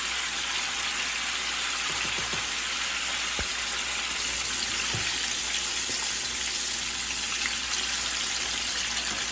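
Chicken tenders fry in a pot of hot oil, giving a steady, even hiss and crackle throughout with a few faint knocks, no talking.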